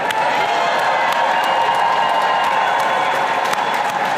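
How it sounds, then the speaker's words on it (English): A crowd at an outdoor rally against proposed budget cuts to nonpublic school funding cheers and applauds, a loud, dense wash of clapping and shouting that holds steady throughout. "Can I get a cheer for that?"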